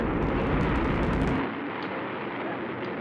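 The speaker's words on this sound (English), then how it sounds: "The Atlas missile has lifted off from the pad and is rising steady into the sky." An Atlas rocket carrying the Mercury MA-6 flight lifts off the pad with a loud, dense roar that starts out crackling and rumbling, then settles into a steady, slightly thinner rush.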